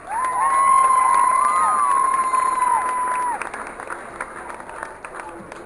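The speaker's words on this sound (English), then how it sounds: "Folks, would you give our bronc riders a round of applause?" Rodeo crowd applauding bronc riders, a short spread-out clapping and cheering that thins after a few seconds, with a whistle-like tone rising over it early on.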